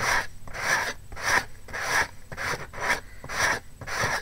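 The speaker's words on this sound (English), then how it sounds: "your sanding block in a downward motion" Rhythmic rasping strokes of a sanding block pulled downward on wood, about eight even back-and-forth passes, close and steady with no voices.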